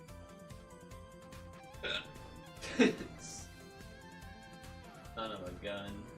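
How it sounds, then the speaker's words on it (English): A person lets out several sharp hiccups, loudest near the middle, over a steady bed of background music with talking mixed in. "That was a loud hiccup"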